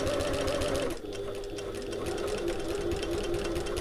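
A sewing machine stitches a divided backpack pocket, a loud, close, continuous whirr with quick needle ticks; the pace shifts briefly after a second, then carries on steadily as it back stitches.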